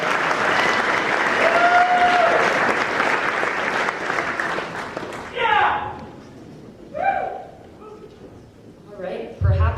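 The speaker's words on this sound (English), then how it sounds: "Now you may clap." A crowd at a secondary school graduation ceremony applauds loudly and steadily for about five seconds, then the clapping fades as a voice speaks in short bursts.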